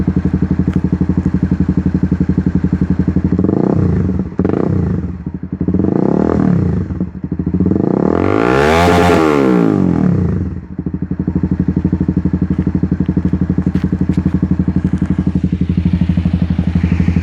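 A Honda CBR300R motorcycle with a GP can exhaust idles with a steady rumble, then revs up in several blips climbing to about 5,000 rpm, a loud, high roar, before dropping back to idle.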